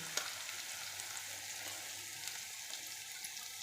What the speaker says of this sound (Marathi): मोठं टमाटर घालायचं चांगलं घालून परतून घ्यायचं